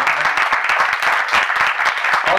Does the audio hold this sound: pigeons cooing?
no